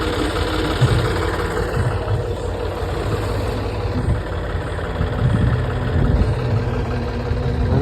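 A long queue of tractors idling, producing a continuous low diesel rumble with steady throbbing pulses, loud and unbroken throughout.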